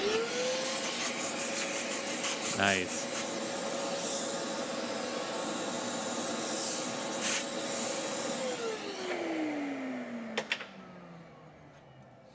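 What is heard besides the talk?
shop vacuum cleaning up after woodworking inlay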